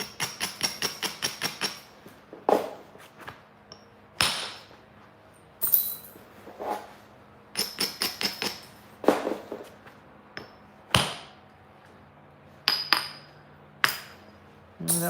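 Flint knapping with a bopper hammerstone, a series of sharp stone-on-stone strikes, some in rapid clusters and others spaced singly, each with a bright ringing clink, close and clear with no talking.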